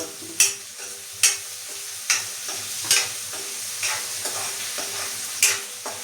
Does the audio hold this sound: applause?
no